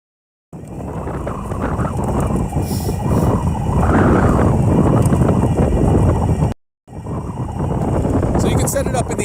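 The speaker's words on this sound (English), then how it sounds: "You see the wind shaking my camera." Strong wind buffets the camera microphone outdoors in Great Lakes weather as snow approaches, a loud, constant rumbling roar that cuts out briefly and then resumes.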